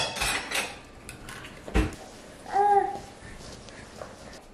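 Cookie batter is stirred in a bowl with clinking utensil scrapes and knocks against the dish, close by in a home kitchen, while a baby babbles and a ringing tap sounds partway through.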